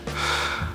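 A voice imitates heavy, gasping breathing in the manner of a cartoon character, one close, loud, strained breath lasting under a second with no other sound.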